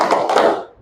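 A primary school class does a rhythmic spirit clap, a short burst of a few quick group claps close by that trails off within a second.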